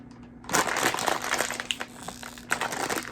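A packet of India's Magic Masala snack is crinkled and torn open, loud crackling and crumpling bursts running for about three seconds, close to the mic with no talking.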